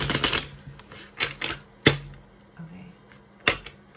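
Lenormand cards being split and shuffled up close: a dense run of crisp riffling clicks opens, then separate sharp snaps and short shuffling bursts follow, over a faint low hum.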